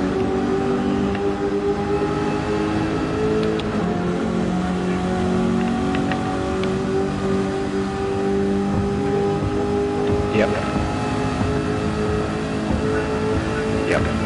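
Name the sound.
Dodge Challenger Hellcat car engine in a racing video game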